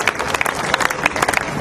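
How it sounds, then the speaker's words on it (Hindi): Applause from an audience at a political padyatra rally in Mathura, honouring a young youth-wing worker; dense, steady clapping from a crowd with a few louder claps standing out. "इनके लिए जोरदार तालियां हो जाइए"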